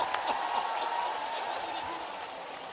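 An audience claps at a large youth dialogue event in Gwalior, with continuous dense applause throughout and crowd noise beneath.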